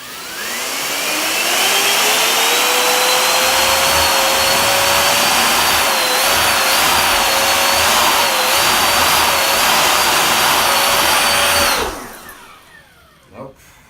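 A J5 jet RC car motors up an indoor hill with a loud, steady high-pitched whine that wavers slightly in pitch for about twelve seconds, then cuts off abruptly, followed by a couple of faint knocks.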